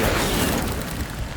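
Incendio fire spell cast in Hogwarts Legacy, a short loud whooshing burst of flame with a deep rumbling boom that rolls on briefly without easing off.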